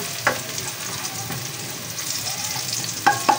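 Garlic sizzles in a hot pan for boneless bangus pesa as a utensil stirs it, giving a steady soft fry with a few sharp scraping clicks near the start and end. No one speaks.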